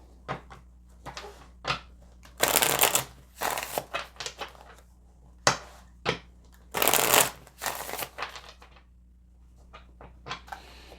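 Oracle cards shuffled for a pick-a-card spiritual reading, giving repeated bursts of riffling and bridging with soft taps and card slaps between them, close and fairly loud, with no talking.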